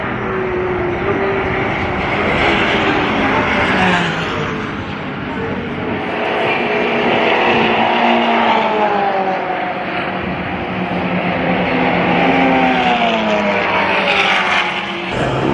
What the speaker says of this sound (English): Get some cars going by.